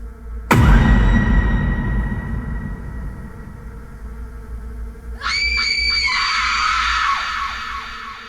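A woman screams in panic, a horror-story effect: a sudden loud shriek, then a sustained, piercing scream that rises and wavers, both harsh and close.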